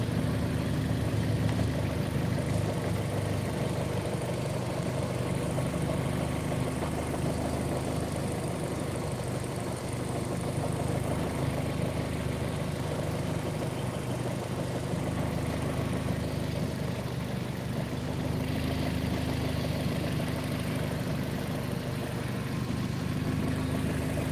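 A car engine idles while its cooling system is being flushed, producing an unbroken, even drone with a steady low hum for the whole stretch and no talking.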